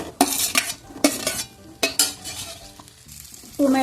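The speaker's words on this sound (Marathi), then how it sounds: "टोमॅटो नरम होतपर्यंत परतून घ्यायचं" Chopped tomatoes sautéing in a pan with garlic, ginger and cashews for a paneer masala base, with repeated close scraping and clinking stirring strokes over a soft, steady sizzle.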